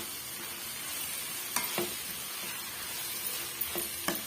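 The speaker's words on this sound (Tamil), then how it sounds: "ஒரு டீஸ்பூன் அளவுக்கு குழம்பு மிளகாய் தூள் வந்து சேர்த்துக்கலாங்க சேர்த்துட்டு இதையுமே வந்து பச்சை வடை போகிற வரைக்கும் ஒரு நிமிஷத்துக்கு வதக்கி விட்டுக்கலாம்" Chilli powder fries in the base of an egg gravy, a soft steady sizzle close by with a few sharp stirring clinks and scrapes against the pan, no voices over it.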